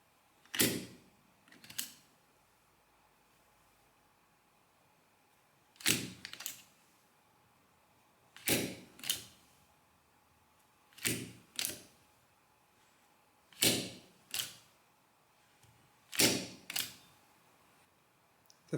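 Velos Lightning automatic numbering machine printing, sharp mechanical clacks in closely spaced pairs repeated at regular intervals against a quiet background, close and clear.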